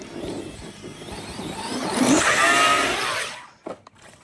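An Arrma Talion RC car tears across sand, its electric motor whining and rising to a loud peak, then drops away abruptly as the car goes airborne, followed by a couple of short thumps from landing.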